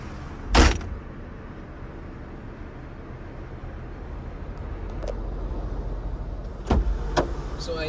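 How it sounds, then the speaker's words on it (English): A driver climbs into a car for a road test in Ajman and shuts the door, giving a sharp close thump near the start, quiet interior movement, then another solid knock later. "So I enter the car, hold the steering like that and come inside the car, close the door first"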